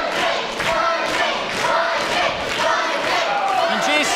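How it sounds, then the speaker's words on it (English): Wrestling fans at ringside chant a wrestler's name in loud, rhythmic crowd waves that pulse steadily throughout an indoor independent wrestling show. "Vinny O'Malley and all these fans here ringside chanting Lycan"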